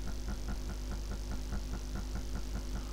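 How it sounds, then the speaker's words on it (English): A Sim Shaker seat vibrates to the DCS flight-sim engine, giving a steady, fast beating pulse over a low continuous hum, close and even. "the sound that you probably hear in the background, a sort of beating sound"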